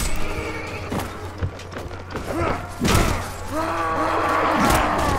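A horse in the Mount and Blade Warband video game whinnies loudly near the end, among thuds, clatter and clip-clopping hooves from combat. No one speaks.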